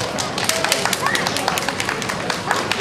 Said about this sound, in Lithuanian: plojimą